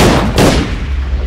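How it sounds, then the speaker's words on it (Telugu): A gunshot in a Telugu crime film scene cracks out loud and close, a sharp blast repeated a moment later, followed by a low rumbling decay. "సో ఫస్ట్ నేను షూట్ చేయబోయే"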